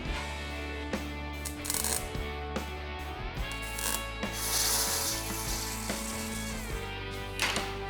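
A 3/16 round rod cranked by hand through grooved metal rollers to bend a wheel arch in a custom VW garage, giving steady rubbing, scraping metal friction with a few sharp clicks, close and alone.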